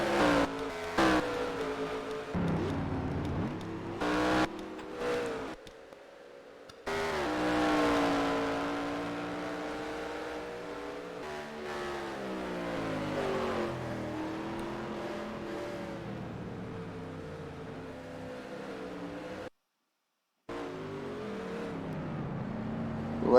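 Race cars in a video game community race (YES! Marina) roar past, engines revving and whirring through gear changes, with a few brief drops to near silence.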